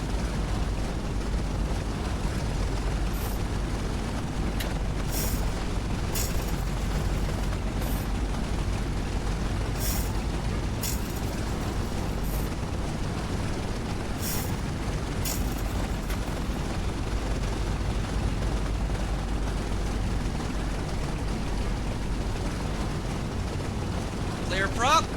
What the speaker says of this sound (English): Engine 4 is starting up.